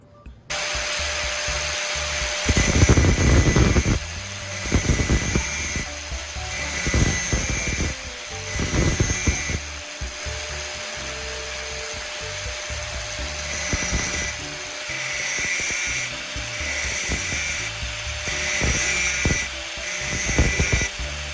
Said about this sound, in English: I need to grind both sides of the saw blade to make it sharper